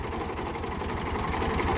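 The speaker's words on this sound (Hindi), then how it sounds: "अभी जो है ना ट्रैक्टर आगे जा रहा है" A tractor engine running steadily in a farm field with a rooter working behind it, a close, continuous low chugging drone with a regular pulsing beat.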